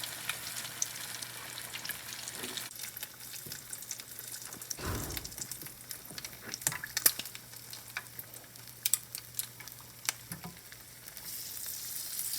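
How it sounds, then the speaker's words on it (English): Food dropped into a deep fryer bubbles in hot oil, a constant crackling sizzle with scattered pops and a louder surge of frying partway through, close and without talk. "shake off the excess, and we're going to drop it in the fryer"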